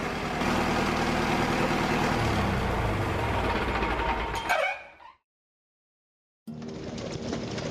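Vintage Lister A 3HP diesel engine running with a steady, loud low-frequency chug, cutting out abruptly for over a second before the mechanical rumble resumes.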